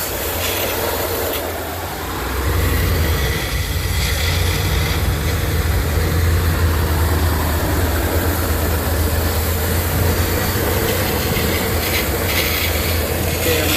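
A car engine running hard while AMSOIL Power Foam cleaner is sprayed into it, giving a loud, steady, droning roar with a slight rise in level after a brief dip near the start and no talk over it.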